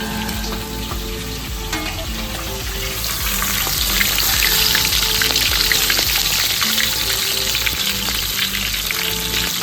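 Pieces of katla fish sizzle hard in hot oil in a village kitchen, a continuous close crackle that swells louder midway, with occasional clinks of stirring.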